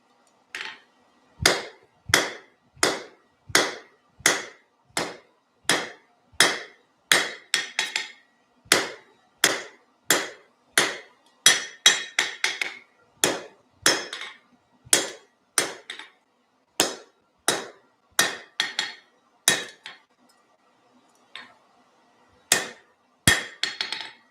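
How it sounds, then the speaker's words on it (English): Steady hammer blows flatten hot forged metal into a square on an anvil, sharp ringing strikes landing in quick regular bursts with brief pauses between groups, loud and close with no talking. "I'm just going down each of the four sides and flattening it back out into a square."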